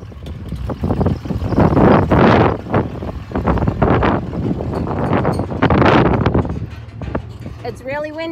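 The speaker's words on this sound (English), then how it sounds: "It's really windy, guys." Strong gusts batter the microphone with loud, rumbling buffets that rise and fall throughout, outdoors on a ranch in Arizona as a storm blows in.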